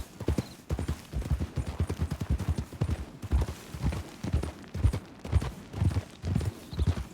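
Horse hooves clip-clop in a quick, steady rhythm on a hard surface, close and distinct, continuing without a break.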